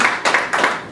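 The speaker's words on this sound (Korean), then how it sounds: "박수 한번 해주세요" Several people clap at a tourism association board meeting, a short, loud round of applause broken into three quick bursts.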